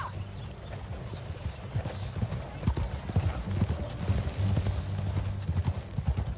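Steady clip-clop of horse hooves at a riding pace in the video game Red Dead Redemption 2, fairly close, running continuously over a low ambient background.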